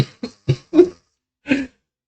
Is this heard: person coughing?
yes